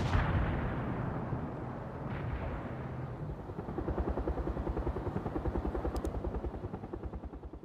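A Soviet Mi-24 attack helicopter in the World in Conflict strategy game approaches with a loud, rising rotor thump that settles into a fast, steady chop, over a rumbling battlefield backdrop.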